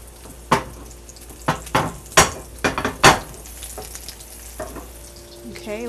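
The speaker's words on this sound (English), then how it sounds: "I can see all the spices kind of toasting up and cooking in the pan while my salmon sears on each side" Farm-raised salmon with an ancho spice crust sears in a preheated pan, a steady close sizzle punctuated by several sharp crackling bursts as pieces are laid in and shifted.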